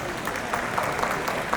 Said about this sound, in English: give applause once again to all the panelists